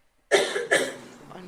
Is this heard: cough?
yes